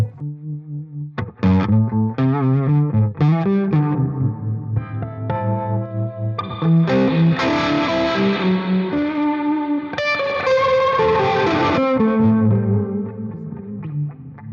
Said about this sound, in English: That's that wonderful harmonic tremolo you already love.